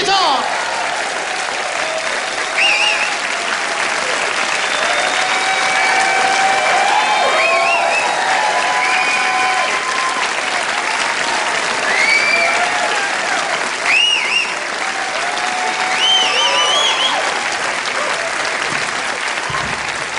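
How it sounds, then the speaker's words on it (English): A live comedy-show audience gives sustained, loud applause for a guitar, dense clapping with some cheering that carries on steadily throughout. "Let's have a big round of applause, please, for the guitar."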